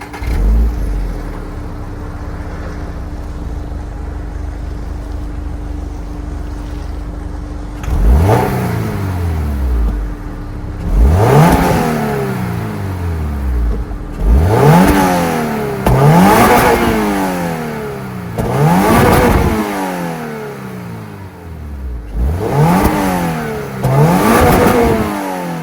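A 2024 Toyota GR86's naturally aspirated 2.4-liter D4S Subaru boxer four-cylinder idles steadily, then is revved in a series of sharp blips that climb and fall, six or so loud close bursts.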